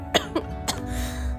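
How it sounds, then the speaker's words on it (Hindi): A girl coughs three times in quick succession, close and sharp, followed by a faint rough throat sound. "इतनी खांसी क्यों आ रही है?"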